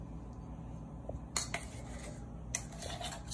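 A measuring teaspoon being scraped level in a quiet kitchen, two brief, soft metallic scrapes about a second apart with a faint hum underneath.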